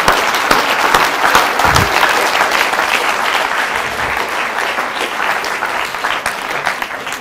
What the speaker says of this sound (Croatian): Sad možete opet jedan aplauz za to